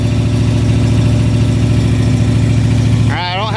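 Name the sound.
Ford Mustang Foxbody engine idling on first start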